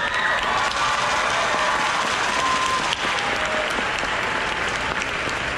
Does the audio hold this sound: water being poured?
no